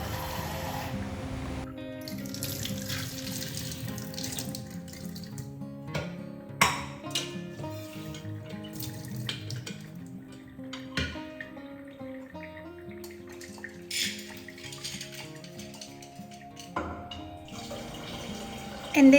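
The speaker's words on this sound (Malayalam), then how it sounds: "ആദ്യം കുറച്ച് പരിപ്പ് പരിപ്പില്ലേ അത് കഴുകിയിട്ട് കുക്കറിലൊന്ന് വേവിച്ചെടുക്കാം" Lentils are rinsed under a running kitchen tap, with water streaming steadily and splashing, broken by occasional clinks of a vessel and light handling sounds throughout.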